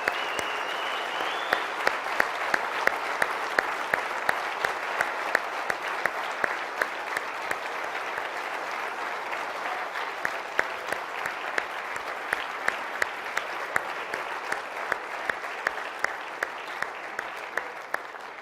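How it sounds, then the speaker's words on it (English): A large standing audience applauds graduate brothers of a fraternity academy at a keynote speech, a steady sustained wash of many hands clapping with crisp individual claps standing out, moderately loud and continuous throughout with no talking. "stand up, if you would please, and give a round of applause to all the graduate brothers here that are serving here at the Fiji Academy"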